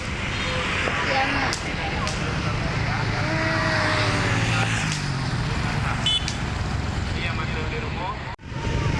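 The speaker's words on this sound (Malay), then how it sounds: "Banyak kali ya motor, mobil di malam hari ya." Busy night traffic of motorbikes and cars during Eid takbiran in Blang Peuria forms a dense, continuous roar of engines with passing buzzes, mixed with background voices and a sudden dropout near the end.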